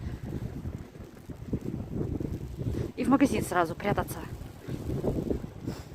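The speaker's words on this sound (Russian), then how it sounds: "Между домами такой ветер сильный дует." Strong wind gusts between apartment buildings during a heavy December snowstorm in Petrozavodsk, rumbling and buffeting the microphone steadily while people talk over it.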